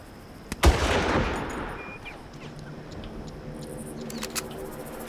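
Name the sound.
sniper rifle shots in Far Cry video game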